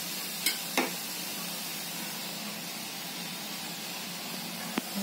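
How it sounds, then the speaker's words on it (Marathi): Continuous broad sizzle and hiss in a pan while oil is added with salt for a spicy green chili thecha, a few sharp clinks punctuating the steady frying noise, close and without talk. "आता तेल घालते याच्यामध्ये।"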